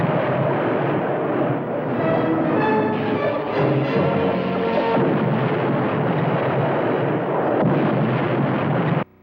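Laser fire from a submarine at an undersea reef in a cartoon, a loud continuous roaring, rumbling blast with wavering tones that sustains for several seconds before cutting off abruptly.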